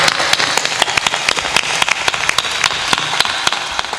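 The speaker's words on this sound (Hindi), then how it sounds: "ताली बजाओ" An audience at a spiritual discourse by a sant claps hands in a fairly rhythmic burst, individual claps sharp and distinct over a softer wash of clapping, moderately loud.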